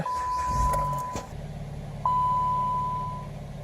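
A 2012 Dodge Avenger's dashboard chime sounds as a steady electronic tone, then a brief mechanical thump as the engine starts, followed by the car idling quietly beneath a second long chime.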